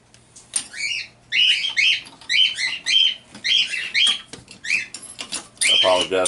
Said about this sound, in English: I apologize for the birds if they're bothering you.